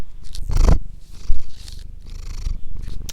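A pet cat purrs up close, a steady low rumbling rhythm of loud pulses with brief pauses, heard alone without talk.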